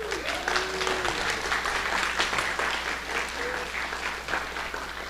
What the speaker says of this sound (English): All right, round of applause, y'all.